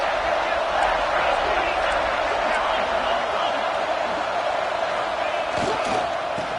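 A packed stadium crowd at a college football game between Auburn and LSU roars steadily and swells, a dense continuous wash of cheering with a commentator talking over it.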